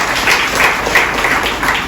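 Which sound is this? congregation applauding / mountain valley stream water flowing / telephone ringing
congregation applauding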